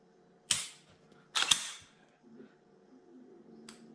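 Two sharp metallic clicks from the trigger reset of a Smith & Wesson M&P 2.0 Metal 9mm pistol, close and crisp about a second apart, followed by faint handling noises and a tiny tick.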